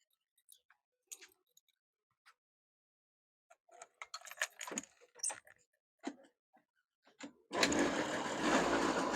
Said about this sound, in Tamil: சாவிய போட்டு ஸ்டார்ட் பண்ணி பார்ப்போம்.